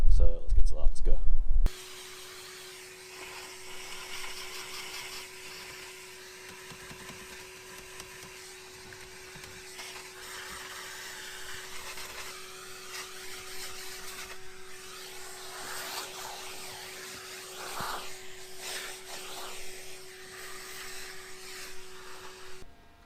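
A vacuum cleaner hoovers the dusty interior of a modified Lexus GS300 with a 2JZ engine: a brief louder burst, then a steady, close whining drone that runs on evenly throughout.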